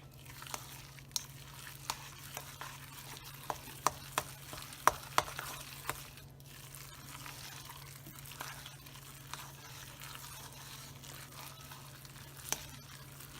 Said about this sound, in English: It's a lot of work stirring this.